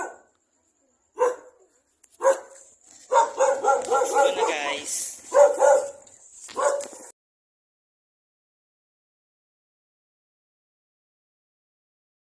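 A dog barks several times in quick bursts while people talk over it, then everything falls silent for the last few seconds.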